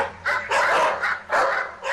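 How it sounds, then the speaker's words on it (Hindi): Dogs barking as a horror story effect, several loud close barks and yelps in quick bursts with short gaps, alone without speech. "उसे चारों तरफ से कुत्तों ने घेर लिया"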